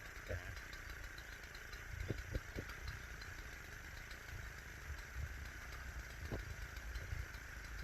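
The small engine of an old Japanese three-row rice paddy weeder idles steadily with a constant hum and faint rattling, a few knocks and clicks standing out over the drone.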